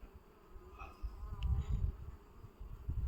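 Honeybees hum in a soft, continuous buzz around a hive's flight box, with a few individual bees droning louder as they pass close by.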